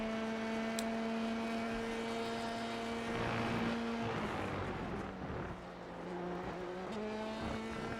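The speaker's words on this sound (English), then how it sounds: "you can hear the late downshift into there" An F3 race car in a racing simulator drones at high revs, its engine pitch sweeping down through a late downshift midway before climbing again, loud and alone.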